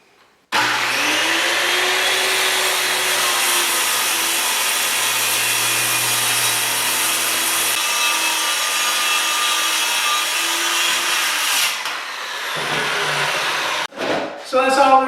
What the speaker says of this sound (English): Now with the saw board clamped in place, I can make a cut.